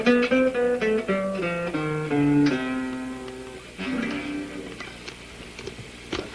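A C melodic minor scale on guitar climbs note by note in clear single plucked tones, moderately near and fairly soft, with the last notes ringing out and fading.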